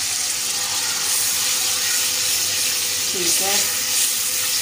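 Two to three tablespoons of yogurt going into frying masala in a pot, a steady sizzle and hiss with brief stirring scrapes, while someone speaks briefly.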